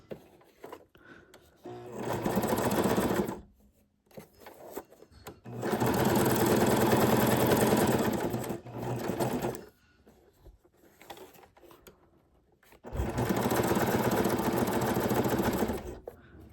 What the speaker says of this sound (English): So you're still sewing.